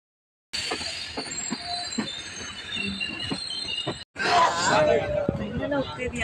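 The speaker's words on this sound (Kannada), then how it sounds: "ಟ್ರೈನಲ್ಲಿ ಹೋಗ್ತಿದ್ಯಾ?" A passenger train runs on its rails during a trip toward Mysore, with a steady rumble and rattle of the carriage throughout. A short break comes near the four-second mark, and the noise returns louder, with voices and chatter in the carriage.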